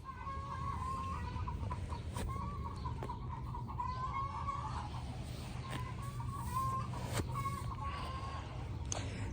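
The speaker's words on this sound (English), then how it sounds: "I don't know if you can hear the egg layers, but they are squawking." Egg-laying hens squawking and clucking in a coop, repeated loud calls rising and falling over a low background hum, with a few sharp knocks, nearby and fairly clear.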